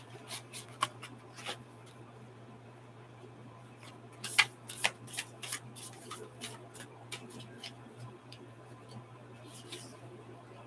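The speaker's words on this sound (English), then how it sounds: "I'm going to pull the cards" Tarot cards are shuffled and pulled in a quiet room, giving soft scattered flicks and taps over a low steady hum, with a small cluster of sharper card snaps near the middle.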